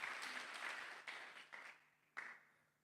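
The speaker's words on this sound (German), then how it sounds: "ein Applaus für die Passe" Applause inside a church congregation, a sustained patter of clapping that fades and then returns in a few short bursts, fairly faint.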